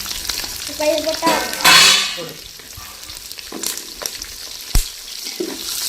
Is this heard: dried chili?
yes